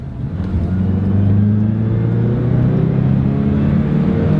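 A small pickup truck with a tiny 4-cylinder engine downshifts on a woodland road, its engine note rising to a steady, loud drone and rumble heard close up without any voices.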